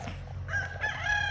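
A rooster crows somewhat faintly in the distance over a low background rumble, one drawn-out call.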